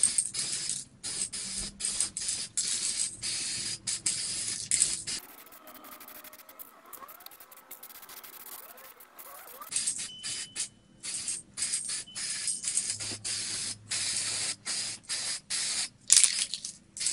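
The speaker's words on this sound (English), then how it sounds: "I will hold the spray can at a distance of 25 centimeters" Bursts of aerosol spray from a spray can painting brake calipers, hissing in short repeated pulses, pausing briefly in the middle before resuming steady spraying.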